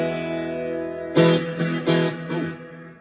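A Harley Benton ST-Acoustic electro-acoustic guitar through a clean amp channel: a sustained chord rings out, then three fresh strummed chords follow in close, loud succession, with no talking.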